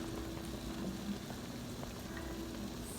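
A big pot of orange marmalade boils on the stove, giving a steady, soft bubbling hiss with faint pops and no talking.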